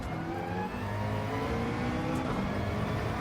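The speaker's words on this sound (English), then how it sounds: "I hit the limiter" A race car engine in Gran Turismo 7 holds high revs against the rev limiter, a steady, buzzing drone that stays loud and unbroken with no talking.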